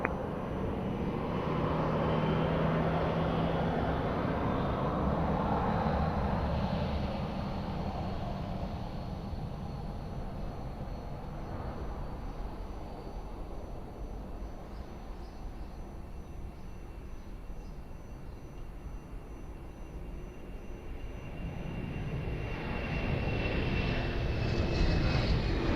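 Airliner taking off from runway 02 at Lisbon Airport, a broad sustained jet roar that swells, eases slightly mid-way, then builds again, heard from a distance without talk.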